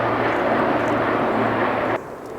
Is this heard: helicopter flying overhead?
yes